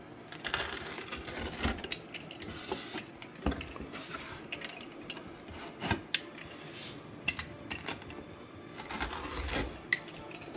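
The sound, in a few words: slicing a Sonoma Flatbreads uncured pepperoni gluten-free pizza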